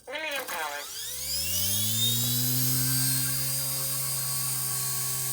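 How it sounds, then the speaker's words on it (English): A Blade mCPX BL2 electric RC helicopter rotor whines as it spins up, its pitch rising steadily and then holding at a loud, steady hum. "Let's go hold the helicopter"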